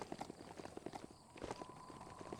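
A ridden goat mount in the video game Biomutant trots with a steady quick clip-clop of hooves, fairly faint and continuous, with no other sounds standing out.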